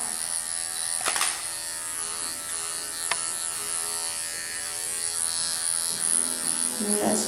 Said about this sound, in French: J'ai évidemment mis la tondeuse moins courte que pour l'intérieur des pattes